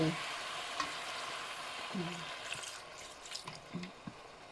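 Green curry paste melting and frying in a pot for Thai green curry, giving a soft continuous sizzle with occasional light stirring scrapes and clinks, close and fairly quiet, with no talking.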